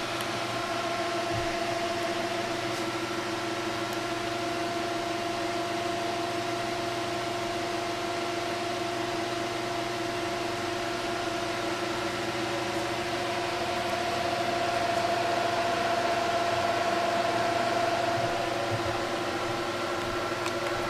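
Fans running at full speed on a homemade radiator heated by a 2200 W kettle, giving a steady, even whir with a faint tonal hum that holds unbroken throughout, close and fairly loud.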